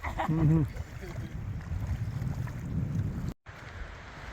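Wind gusts outdoors on a Continental Divide hiking trail as the temperature drops, making a low, blustery rumble against the microphone. A voice is briefly heard at the start, and the sound cuts out for a moment near the end.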